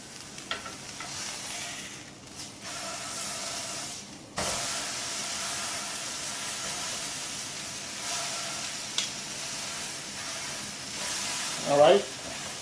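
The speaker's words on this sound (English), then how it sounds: "So down in the pan she goes, and I'm just going to sear this on all 4 sides." A beef ribeye steak sears in a Lodge 10.25-inch cast iron deep skillet, giving a steady broadband sizzle and hiss that holds throughout with small shifts in level and a brief louder flare near the end.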